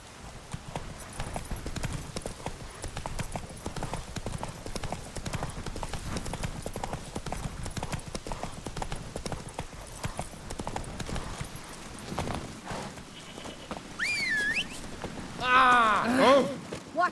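Horse hooves clip-clop in a steady, rhythmic gait in The Witcher 3: Wild Hunt, continuous and close, with a rider's voice speaking over it and a brief whinny near the end.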